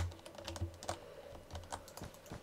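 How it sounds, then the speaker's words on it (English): A computer keyboard is typed on steadily during a Skyrim building session, its quick, irregular clicks close and distinct over a low hum of game sound, with no one speaking. "It makes my keyboard sounds just louder and louder and louder and louder."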